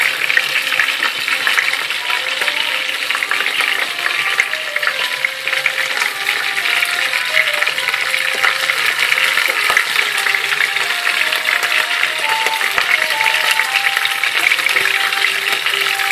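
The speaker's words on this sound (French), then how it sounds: "Et on va faire cuire le pain comme des frites" Bread pieces frying in hot oil like fries, a loud, dense, steady sizzle that crackles continuously throughout with no talking.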